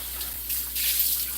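Running tap water pours steadily as something is washed under it in a kitchen, a brief, close, continuous hiss that swells slightly partway through, with no talking.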